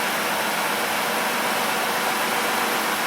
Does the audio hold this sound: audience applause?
no